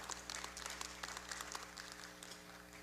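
Church congregation applauding during a sermon, a dense wash of many hands clapping at moderate distance, steady and fairly quiet throughout with a low background hum.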